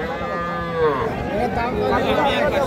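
Cattle and calves at a livestock market moo loudly and close by, one long drawn-out call then another, with market chatter and voices in the background.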